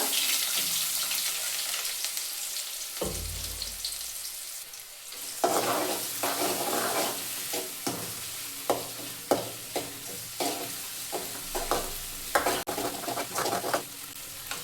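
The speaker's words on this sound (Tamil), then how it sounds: "ஒரு பச்சை மிளகாய் போட்டு வதக்கிக்கலாங்க நல்லா" Onion, ginger, garlic and green chilli sauté in a pan for a pea gravy, with a steady sizzle under frequent close scrapes and taps from a stirring spoon. There is a low thud early on, and nobody talks.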